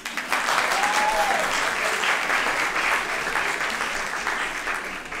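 An audience at a university choir concert gives sustained applause to the choir conductor and pianist. The dense clapping holds steady for the whole stretch, with no voices over it.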